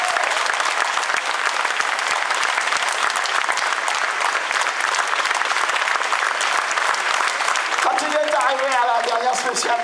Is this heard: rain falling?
no